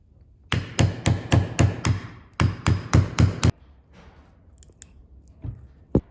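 A quick run of sharp metallic hammer taps on a small screwdriver, driving out axe-head wedges, in two bursts, close and loud, then a few scattered lighter knocks and clicks.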